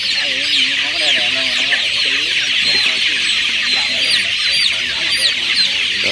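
A crowd of 24-day-old chicks being vaccinated against fowl cholera on a farm peeps and chirps constantly in a loud, busy high-pitched chorus, with people talking underneath.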